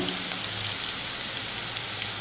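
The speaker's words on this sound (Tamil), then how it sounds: "இப்போ வந்து வெங்காயம் பாதி இருக்கு இன்னும் கொஞ்சம் வதங்கணும்" Onions sautéing in a pan for Tamil-style radish chutney give a steady, close sizzle and crackle of frying oil, even and continuous with no talk.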